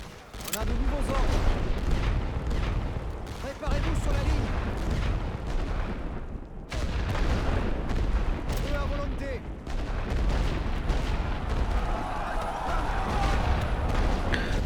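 Artillery and gunfire from the World War I game The Great War: Western Front, dense rumbling barrages and rapid shots rolling on almost without a break, loud and layered, with a voice talking over them.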